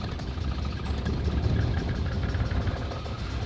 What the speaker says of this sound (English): Now it starts idling good.